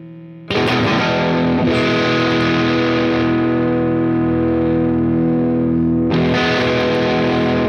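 Electric guitar through a distortion effect on a HeadRush pedalboard: a thick, sustained, saturated chord rings out loud and alone, then is struck again near the end.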